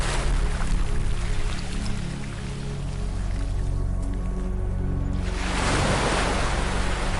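Ocean waves break on a beach with a continuous roaring wash that eases, then surges again as a fresh wave rushes in. The sound is loud and close, and no voices are heard.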